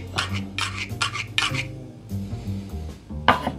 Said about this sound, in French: On mélange un petit peu pour infuser, pour incorporer les deux.